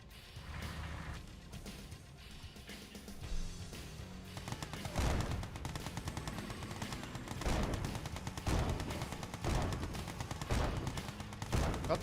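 Gatling guns fire in a tower-defense style tournament video game, a dense, continuous rattle of rapid shots with recurring louder bursts, steady and close throughout.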